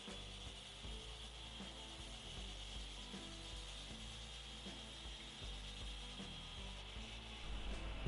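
A worn-bladed, water-cooled saw from a scrapyard find cuts through a ceramic tile, giving a steady, close grinding and whirring drone with small rattling variations that carries on throughout, with no voices.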